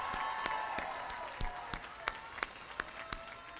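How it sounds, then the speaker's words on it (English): A commencement audience at a 2019 Harcum College ceremony applauds with a thin spread of scattered hand claps. A few sharper individual claps stand out near the end. "So we owe a round of applause to all the people out here that help support you"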